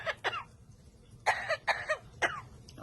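A parrot imitates a human cough, producing a series of short, raspy coughs in separate bursts with brief pauses between them, close and fairly clear over a faint low background hum.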